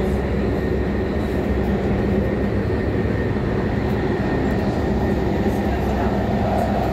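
Inside a moving train carriage: a loud, steady rumble and roar fills the whole clip with no breaks.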